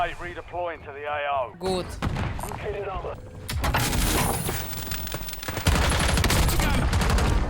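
Dense gunfire in the video game Call of Duty Warzone, rapid automatic bursts and loud shots building toward the end, heard under players talking.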